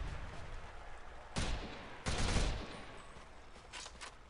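Bursts of gunfire with bouncy bullets ring out in a Call of Duty zombies arena match, with two heavier volleys in the middle and lighter shots near the end over a low background.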